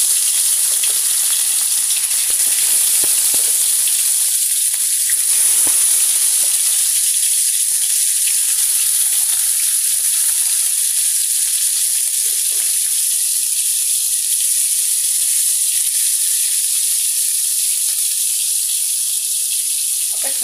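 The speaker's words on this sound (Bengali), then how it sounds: "তেল গরম হয়ে গেছে, মাছগুলো দিয়ে দেব।" Five pieces of rohu fish, rubbed with salt and turmeric, fry in hot oil with a loud, continuous, close-up sizzle that holds steady for the whole stretch.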